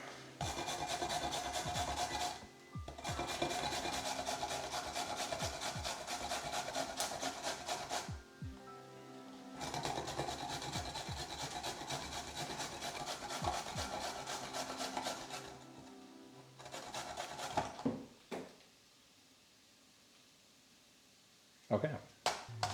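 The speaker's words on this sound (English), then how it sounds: "I'm gonna grate this carrot." A carrot is grated by hand in a kitchen while making Quorn chicken wraps, giving long runs of dry, rhythmic rasping strokes that pause between bursts, with brief talk between them.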